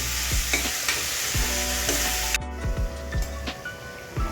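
Onion and tomato sautéing in a pan, a close, continuous hiss of frying with a regular series of spoon scrapes and taps, no talk.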